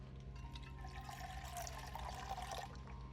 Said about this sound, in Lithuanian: supilam vandenį.